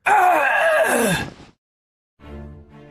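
A man's strained, groaning gasp, loud and close, trailing off, then a short low rumble after a pause.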